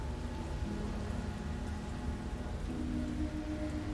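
Steady rain falls in the Slay The Princess video game, a dense continuous hiss with low tonal game music running beneath it and no voices.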